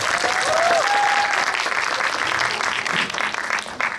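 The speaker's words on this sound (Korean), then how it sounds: "다시 한번 뜨거운 박수 부탁드립니다" A cinema audience at a special screening and guest talk at Lotte Cinema World Tower applauds warmly, dense steady clapping that fills the room, with a brief whistle-like tone near the start.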